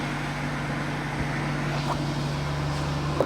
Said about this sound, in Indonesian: Kondisi mesin halus suaranya, saya pakai HX7 olinya